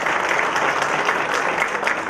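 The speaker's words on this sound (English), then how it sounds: "Big round of applause for the support of Pradhan," Audience applause at a labour-law seminar hosted by an HR group: dense, steady clapping from a crowd, loud and continuous throughout with no talking.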